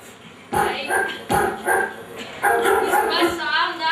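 A dog barks repeatedly in short, sharp bursts, about five or six barks in an uneven rhythm, close and fairly loud, with some yipping quality toward the end.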